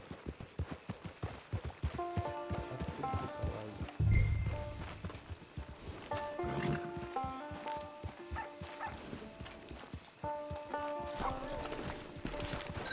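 A horse's hooves clip-clop at a walk in the Red Dead Redemption 2 video game, a steady quiet rhythm mixed under a musical score, with a brief louder thump partway through.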